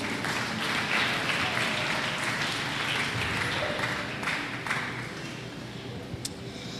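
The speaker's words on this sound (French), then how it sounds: "Parole du Seigneur, acclamez la parole de Dieu." A church congregation at a French-language service applauds steadily for several seconds, a broad, sustained wash of clapping that fades slightly toward the end.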